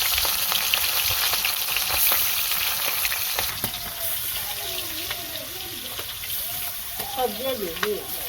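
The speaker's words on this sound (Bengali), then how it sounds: "এই যে কড়াইটা গরম হয়ে গেছে এখন তেলটা দিয়ে দিলাম এখন দিয়ে দিব মাছটা ছেড়ে দেই" Hilsa fish frying in hot oil in a wok, a steady close sizzle and crackle running throughout with occasional utensil clicks, while a voice talks over the second half.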